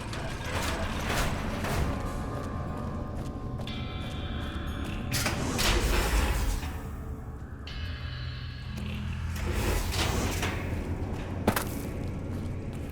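A heavy mechanical door opens in Fallout: New Vegas, with a steady ratcheting, gear-driven grind that runs for about thirteen seconds and swells slightly near the middle and end.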